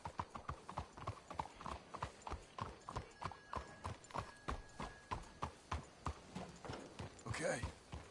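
Steady rhythmic clip-clop of horse hooves at a walking pace in Red Dead Redemption 2, fairly close, with a brief whinny near the end and occasional voices beneath.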